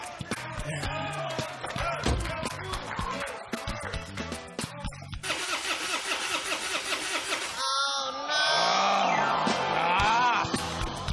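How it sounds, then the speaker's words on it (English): A car engine cranks and catches, then runs briefly among busy studio sounds with crowd noise and music. "One of them starts the car."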